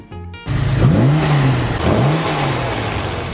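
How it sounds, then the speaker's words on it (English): A 1966 Aston Martin DB6 engine bursts into life and revs loudly, its pitch climbing and falling in two strong sweeps before settling into a steady throaty drone, close and unaccompanied by talk. "Aston Martin DB6."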